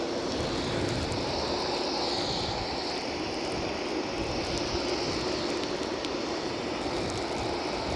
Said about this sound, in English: Ryanair off to Poznan.